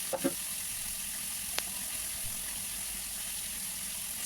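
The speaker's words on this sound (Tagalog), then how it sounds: "Lagyan natin ng tubig." Water hits a hot pan of beef and tomatoes with a brief splash at the start, then a steady, even sizzle and bubbling continue close by with no talking.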